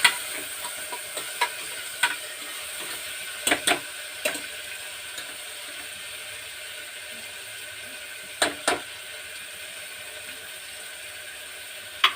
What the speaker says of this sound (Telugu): వేసిన తర్వాత దీన్ని ఇలా కలుపుకోవాలి